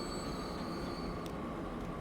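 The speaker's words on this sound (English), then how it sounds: "And that's the train that will run up and down that line on his merry way around the island." A train runs along a rail line in the video game Transport Fever 2, giving a steady rolling rumble with a faint high wheel whine and a couple of brief clacks.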